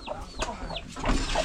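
Chickens cluck close by in the evening near a house, several short clucks and calls in quick succession over a low ambient background.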